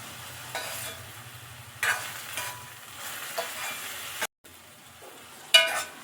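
A spoon scrapes and stirs tomato and onion gojju in a pan, repeated sweeping strokes with a soft sizzle underneath, close and fairly loud, with one brief gap.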